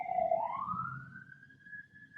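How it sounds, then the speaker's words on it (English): A police siren passes by, its wail sliding upward and then holding steady as it fades into the distance; no talk over it. "Police are going by. There goes the police."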